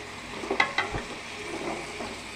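Ingredients for chicken kuzhambu sautéing in a pan, giving a steady low sizzle. A couple of light utensil taps and stirring scrapes sound close by near the start.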